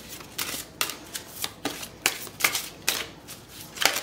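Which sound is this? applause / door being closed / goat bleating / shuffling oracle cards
shuffling oracle cards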